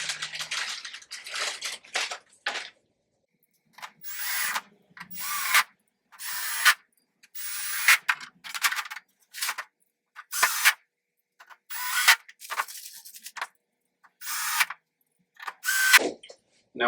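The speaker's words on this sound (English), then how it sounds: "you want to line those up and screw those in as well." Power drill driving screws into tabs while assembling an MCombo 6056 furniture piece, a series of short ratcheting whirring bursts separated by silence, close and fairly loud.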